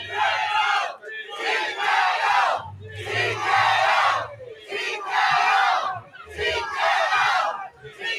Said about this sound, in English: Crowd is going crazy here.